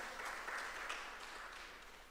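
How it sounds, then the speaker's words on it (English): Faint round of applause from a community gathering in a community centre, steady soft clapping heard at a distance for a couple of seconds. "Give him a lusty round of applause."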